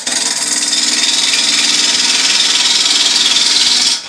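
A Harvey Turbo T-40 wood lathe spins at 1200 RPM while a tool cuts into a beech blank, producing a loud, steady hissing scrape with a faint rhythmic flutter that drops off abruptly at the end.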